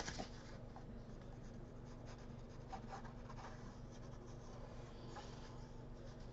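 A hand presses and smooths glued paper onto cardstock, giving a soft, continuous scratchy rubbing over a faint steady hum, quiet and close, with no talking.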